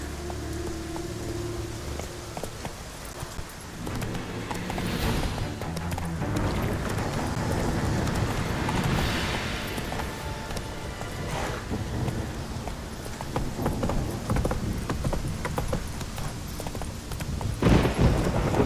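Galloping hooves of a horse in The Witcher III: Wild Hunt, a dense, steady clatter that runs loud and continuous throughout, with a splash of rain-like hiss and a sharp thud near the end.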